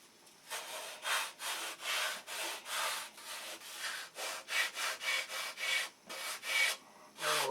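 A short wooden block sanded up to a line during a boat build: steady rhythmic back-and-forth rasping strokes, about two per second, close and clear with no talking.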